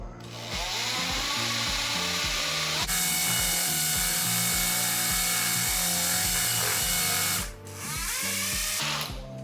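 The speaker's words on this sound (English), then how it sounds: "this is just my drill, old paddle bit, ground the tip off, and I use it as a mixing bit" A power drill with a ground-down paddle bit whirs steadily and loudly up close, mixing fiberglass resin, its pitch fairly constant, briefly dropping and resuming near the end, with a scraping, churning texture.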